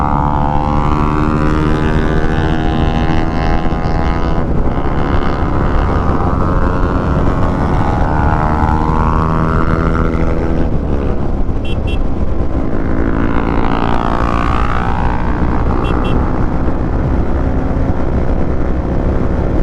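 A loud, close motorcycle with a throaty modified exhaust drones and revs, its pitch climbing and falling through several throttle blips.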